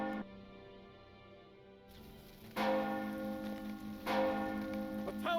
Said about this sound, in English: What is that? The town bells.